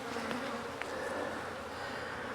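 Honeybees buzzing steadily around a hive frame in an apiary, a dense continuous drone close by with no voices.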